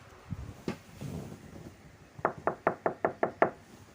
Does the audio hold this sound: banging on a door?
yes